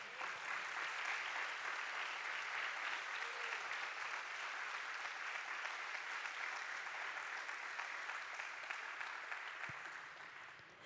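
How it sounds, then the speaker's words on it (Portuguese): A church congregation applauds steadily for about ten seconds during a morning service, a dense wash of clapping that fades slightly at the end. "Você pode dar uma salva de palmas a esse Deus?"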